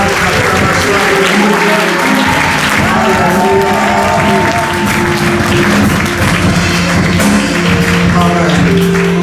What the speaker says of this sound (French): Si tu as été béni ce soir, acclame très fort les gens.